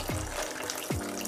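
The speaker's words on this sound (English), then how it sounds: "so I'm adding about half a cup more of cold water to this" Cold water is poured into a pot of Jamaican saltfish fritter batter before the flour goes in, giving two brief splashing gushes in quick succession, close and fairly soft.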